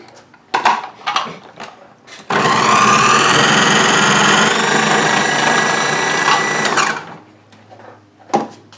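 A KitchenAid 13-cup food processor starts with a loud motor whir and runs steadily for about five seconds while grating food, then winds down, with a few clatters of handling before and after.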